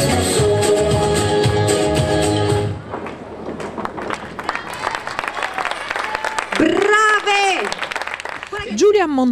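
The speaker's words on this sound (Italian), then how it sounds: "Facciamo un grande applauso alle nostre Miss!" Applause breaks out briefly beside music at a beauty pageant, then a crowd murmurs and cheers as a voice speaks over the noise.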